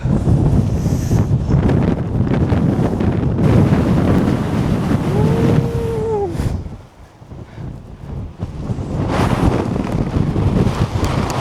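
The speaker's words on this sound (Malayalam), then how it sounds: "ഭയങ്കര കാറ്റാണ് ഗൈസ്." Strong wind roars and buffets the microphone in heavy, continuous gusts on a mountain trail at Agasthyarkoodam, easing briefly before surging again.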